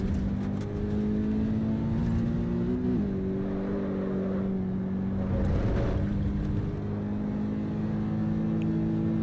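A race car engine in Assetto Corsa Evo drones steadily, dipping briefly as a gear shift cuts in, then climbing again. No voices are heard.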